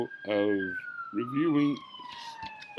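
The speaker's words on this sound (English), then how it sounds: "I apologize for the background noise for the ambulance passing by" An ambulance siren wails faintly in the background as it passes, a steady descending tone running under close speech from a single voice.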